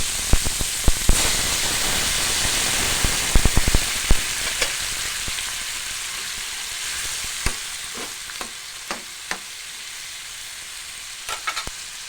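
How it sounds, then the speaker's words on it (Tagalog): Shrimp paste (bagoong) hits a hot pan and sizzles loudly, the hiss easing over several seconds while sharp crackles and stirring clicks pop out at intervals. "Ilagay na rin natin mga kailyan itong ating bagoong."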